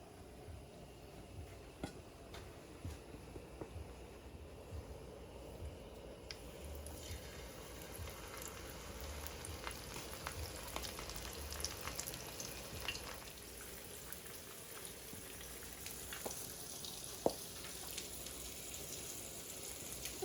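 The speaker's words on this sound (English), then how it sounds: "my oil is hot, so I'm gonna dip the fish head in the flour and fry it" Flour-dredged snapper fish head frying in hot oil, a steady soft sizzle and crackle running evenly throughout with no voices.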